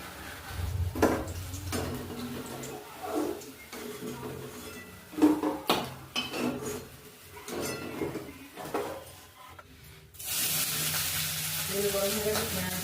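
Chicken balls fry in hot oil, a bright hissing sizzle that swells to a loud steady roar near the end, with earlier pot clatter and a voice speaking over the cooking.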